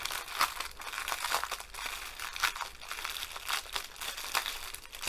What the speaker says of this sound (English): They come in these bags that have got a strip of glue. The hard part is finding the edges, and then peel along.